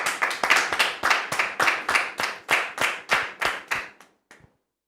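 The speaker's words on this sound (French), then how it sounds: "Sous vos applaudissements, s'il vous plaît." A studio audience on a French television talk show claps in about a dozen rhythmic bursts, loud and close, before the applause tapers off and stops.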